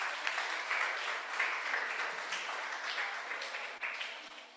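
A church congregation applauds during an evangelical sermon, a dense, steady wash of many hands clapping that stays even and moderately loud from start to finish, with no voices over it.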